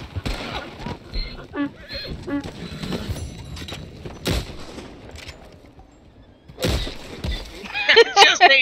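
A horse in the video game Red Dead whinnies amid scattered gunshots and clip-clopping, with players talking throughout over the game sounds.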